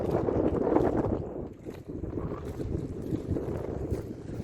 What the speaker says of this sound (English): the wind's piping up